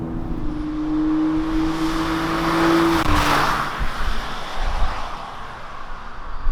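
2021 Kia Picanto small car accelerating on the road, engine drone rising in pitch then easing after a gear change, with tire and wind noise that carries on steadily afterward.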